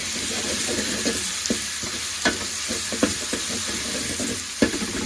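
Garlic sizzles steadily in a hot pan for village-style crab soup, a constant frying hiss broken by occasional clicks and taps of a stirring spoon.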